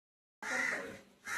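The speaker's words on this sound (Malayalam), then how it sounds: "കേട്ടാ കാക്കയുടെ കരച്ചിലേട്ടാ" Crows caw at a home kitchen, two loud, harsh calls in quick succession after a brief silence, close and clear with nothing else audible.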